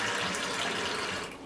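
Tap water poured into a measuring cup in a kitchen, a steady hissing splash of liquid running continuously at close range, with no voices.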